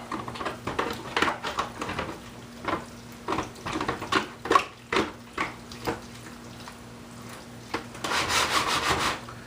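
Hands squish and rub through cooked casserole ingredients in a bowl, a run of soft wet rubbing strokes in an irregular rhythm, close and moderately loud, with no talking.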